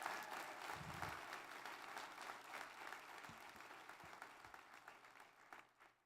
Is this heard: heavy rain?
no